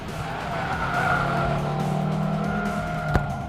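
Audi TT RS sports car lapping a race track, a steady engine drone with tire skid and squeal throughout, one sharp knock near the end.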